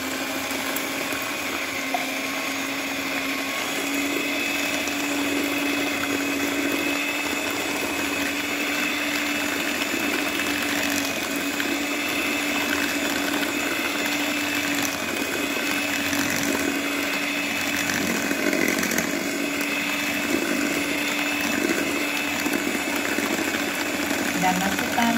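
An electric mixer whirs steadily as it beats batter for mini steamed cakes with full-cream milk and flour, a continuous close motor drone throughout, with no talk.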